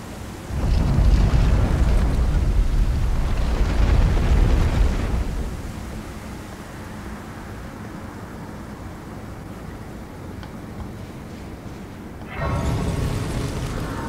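Explosion effects in the video game Elden Ring: a long rumbling blast that fades into a steady lower roar, then a second loud burst near the end, with no talk.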